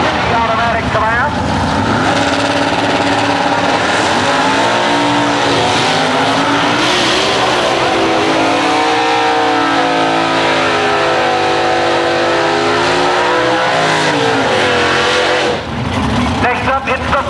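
Super Stock PC Automatic 1969 Camaro drag racing at an early-2000s IHRA event at Farmington, a loud engine howl rising and falling in pitch through a sustained run, with a public-address announcer talking over it.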